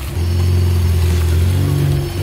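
Lowered Ford Fiesta ST engine revving outside the car, a loud, close, steady deep drone with a throaty exhaust note holding throughout.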